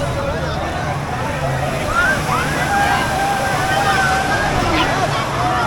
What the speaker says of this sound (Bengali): আবার একটা ঢেউ চলে আসছে।